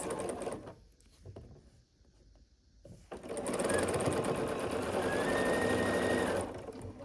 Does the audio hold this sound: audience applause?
no